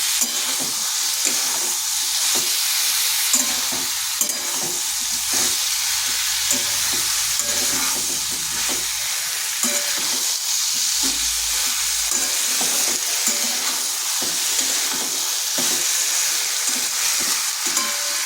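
Fried potatoes and jackfruit are stirred and sautéed in a pan, giving a continuous loud sizzle with repeated scraping strokes of the spatula throughout, no voices.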